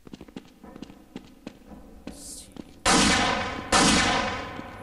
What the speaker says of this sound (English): Missed the first shot, but I didn't miss the second